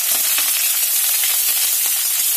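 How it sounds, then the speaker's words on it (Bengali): Black mustard seeds, dried chilies and curry leaves tempering in hot oil, a loud, close, steady sizzle with fast popping crackles throughout. "কালো সর্ষে ফোড়ন দিয়ে নিলাম, বেশ কয়েকটা শুকনো লঙ্কা ফোড়ন দিলাম এবং তার সঙ্গে দিয়ে দিলাম কারি পাতা।"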